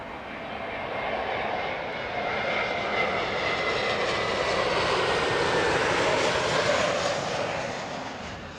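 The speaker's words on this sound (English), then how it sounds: "JetBlue safely down after crossing the Atlantic in a very small aircraft" A small JetBlue aircraft landing at Heathrow Airport after an Atlantic crossing makes a steady engine roar that swells and stays loud through the middle before easing slightly, heard from a distance with no talk.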